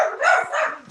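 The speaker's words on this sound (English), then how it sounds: "Can you get the dogs to shut up?" Dogs give a quick pair of close, loud barks within about a second.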